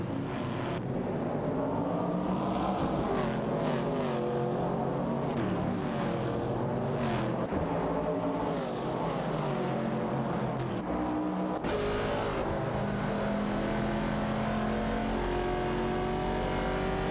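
Race cars in an AI racing video game, including a 1970 Pontiac Firebird, roar steadily as they accelerate toward a turn, with layered engine tones rising and shifting continuously and a loud, dense mix throughout.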